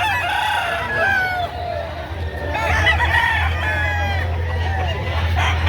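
Several roosters crow and chickens cluck close by at a livestock market selling chickens and stags, over a steady low hum and faint crowd murmur, calls overlapping across the scene.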